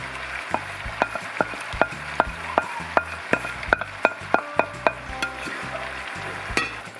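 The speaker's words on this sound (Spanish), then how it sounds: "Y ahora le vamos a echar el hígado." Liver frying in a pan with yellow chili pepper, a steady sizzle under a series of repeated sharp scraping and tapping strokes from stirring, fairly close and without voices.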